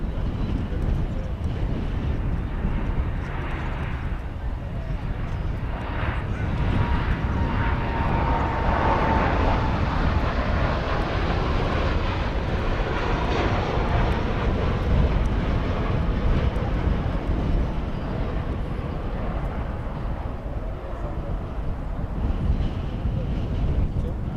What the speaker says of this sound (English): It was a MAX 8 arriving from Santa Barbara